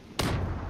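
A sudden booming blast, a bomb exploding in the online shooter Zula, hits abruptly then rumbles and decays, with no talking.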